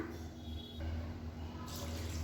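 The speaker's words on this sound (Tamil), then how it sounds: "இப்போ தேவையான அளவுக்கு தண்ணி ஊற்றிக்கலாம்" Water poured steadily over rice that has been washed two or three times and set to soak for adhirasam flour, a continuous close rushing splash with no talking.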